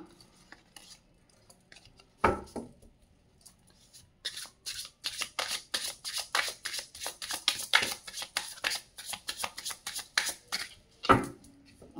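A deck of tarot cards being shuffled, with a sharp riffle early on, then a long run of quick, crisp, rhythmic flicks close by, ending in another firm riffle.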